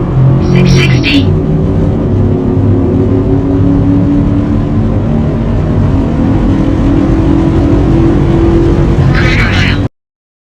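A tuned 5.3 V8 truck with a modified transmission accelerates hard on a quarter-mile run, its loud, close engine drone rising steadily through the gears for about ten seconds, with speech over it.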